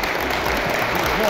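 An indoor crowd at a Saratov regional cup in air-power athletics claps in a dense, steady wash of applause, loud and sustained throughout with a voice over it.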